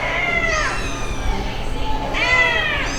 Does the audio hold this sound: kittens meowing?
yes